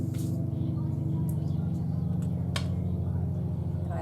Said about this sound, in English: I apologize if you hear the lawnmower outside.